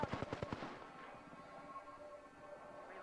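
Rapid burst of gunfire in the battle royale game Apex Legends, a quick series of sharp cracks in the first half second, then a low murmuring background of game ambience with no further shots.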